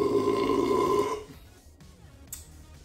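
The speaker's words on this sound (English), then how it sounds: "That was the most epic and delicious burp I've ever had in my life." A long, loud, resonant burp after drinking Oreo-flavoured Coke, rumbling close to the mic for about a second before fading into quiet room noise.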